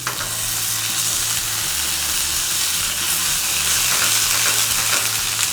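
A small beef steak for beef wellington sears in a hot pan, giving a loud, continuous close-up sizzle and hiss, with a faint low voice underneath.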